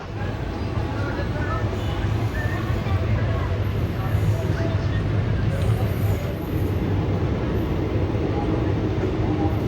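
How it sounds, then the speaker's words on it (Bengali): Teesta Torsa Express train pulling out of Nabadwip Dham railway station, a steady loud low rumble of wheels and carriage noise throughout, with faint voices in the background. "আমাদের ট্রেন ছেড়ে দিল নবদ্বীপ ধাম রেলওয়ে স্টেশন থেকে"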